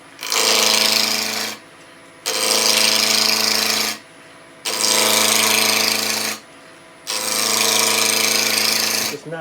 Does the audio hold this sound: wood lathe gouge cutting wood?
yes